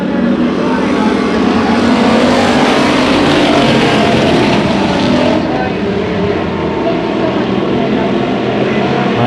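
Hobby stock race cars roar off at the green flag to start a heat race at Bakersfield Speedway, a loud, dense field of engines swelling together and holding steady, with a faint announcer voice beneath.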